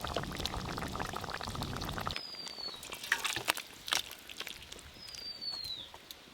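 Fish curry is poured, giving a close liquid pour that stops partway through, followed by softer splashes and a few faint squeaks, with no talking.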